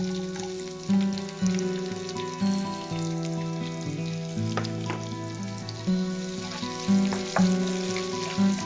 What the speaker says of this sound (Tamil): நம்ம இப்ப இதுல வெங்காயமும் இஞ்சி பூண்டும் போட போறோம்.